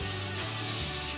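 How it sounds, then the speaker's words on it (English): Morphe setting spray misted onto a face over eye makeup, a continuous close hissing spray lasting about a second and heard alone. "And then I'm gonna spray the Morphe setting spray"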